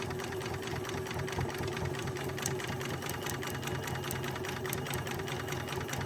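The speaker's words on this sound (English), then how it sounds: "I have my machine set to stop with the needle down." A sewing machine stitching steadily around the edge of an egg-shaped fabric piece for an Easter pocket, a fast even mechanical whir with rapid needle ticking, close and continuous, with no talking.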